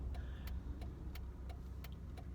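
Interior of a moving car on a drive to a store, a steady low road rumble with regular faint clicking like a turn signal ticking over it, no talking.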